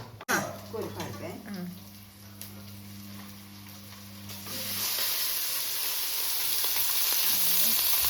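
Chicken pieces sizzle loudly in a hot frying pan for a Mangalorean chicken sukka with cumin, the frying hiss swelling and staying steady after an early clatter and a low hum, with faint talk underneath.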